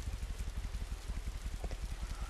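Steady rain falling in the Roblox game Bloxburg, a dense, continuous patter with a low rumbling wash underneath, fairly close and even throughout with no talking.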